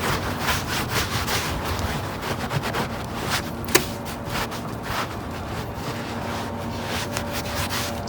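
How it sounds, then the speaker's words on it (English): A rag rubbed over a weathered EPDM rubber roof membrane soaked with membrane cleaner, making a steady, close scrubbing swish with rhythmic back-and-forth strokes and one sharp tap near the middle. "and then you're just going to rub this off"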